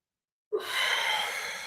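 One sharp, breathy exhale during a stretching workout: near-silent at first, then a sudden close sigh-like release of air that holds steady and fades slightly.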